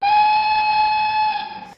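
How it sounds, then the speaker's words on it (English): A steam locomotive whistle blowing loudly in a quarry, one sustained steady tonal blast lasting over a second before cutting off abruptly. "Oliver blew his whistle loudly."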